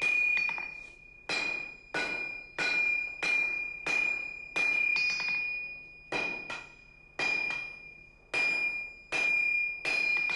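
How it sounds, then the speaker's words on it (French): A blacksmith hammers a hot iron bar on an anvil at the forge, about a dozen loud, evenly spaced blows, each followed by a bright metallic ring that slowly fades. "Puis elle sera battue longuement et travaillée au marteau."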